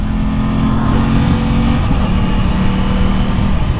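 A 2023 Aprilia RS660 twin-cylinder sport bike engine revs loud and close, a steady gruff grunt holding through with a slight pitch shift midway, no voices over it.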